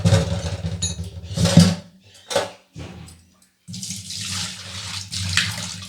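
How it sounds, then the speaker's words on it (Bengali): Hot water poured from a kettle over dried shrimp in a bowl while making chingri shutki vorta, heard as a close splashing stream that breaks off briefly midway and then resumes. "তো দিয়ে দিচ্ছি গরম জল।"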